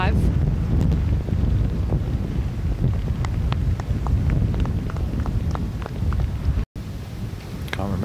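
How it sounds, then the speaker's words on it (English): Strong, steady wind roars and buffets the microphone across a golf course at the Ladies Scottish Open, a continuous low rumble while commentators talk throughout. "It's one of those days where you put the sunscreen on for the wind."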